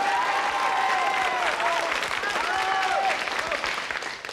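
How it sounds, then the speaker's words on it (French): Warm studio audience applause at a French television culture programme, steady dense clapping with a few excited voices, loud and close, tapering slightly at the end. "merci pour tous ces applaudissements"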